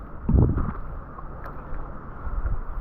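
Gusty wind buffets the microphone along a lake shoreline while paddleboarding, rumbling low and uneven, with soft water lapping underneath.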